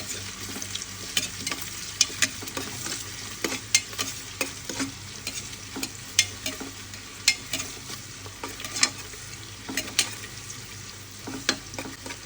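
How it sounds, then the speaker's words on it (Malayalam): Chopped garlic fries in a pan with a soft, continuous sizzle while a spoon stirs it, producing irregular sharp scrapes and clicks against the pan every second or so, close and clear with no voices. "നന്നായിട്ടൊന്ന് ഇളക്കി കൊടുക്കണം"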